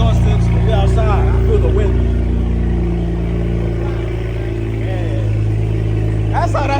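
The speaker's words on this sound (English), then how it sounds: "So we took off these 2 mufflers and got resonator." An LS V8-swapped BMW 1 Series with its two mufflers removed idles with a loud, deep rumble that swells slightly. It is heard close and continuous while people talk over it.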